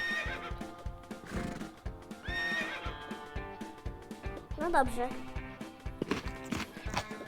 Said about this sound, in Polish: Tam jest inny szlachetny koń.